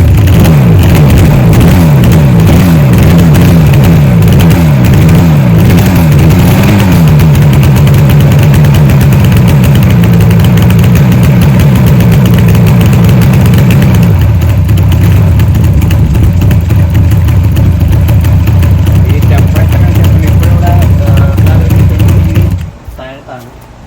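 A 1976 Yamaha RD 400 two-stroke motorcycle engine idles loudly and close by, its uneven burble settling into a steady run before cutting off near the end.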